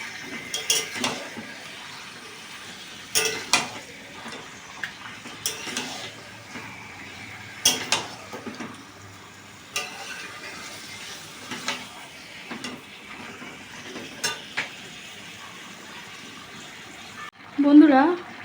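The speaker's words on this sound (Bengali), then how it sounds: "এবার এটা ভালো করে কষতে থাকবো, মাংস থেকে যতক্ষণ না তেল ছাড়বে।" Turkey chicken curry with yogurt-marinated meat is stirred and fried in a pan, intermittent scraping stirs and wet sizzling bursts, with a voice talking in between.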